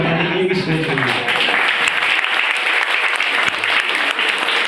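Audience at a first birthday party clapping for a magician, sustained dense applause throughout, with a voice faintly underneath at the start.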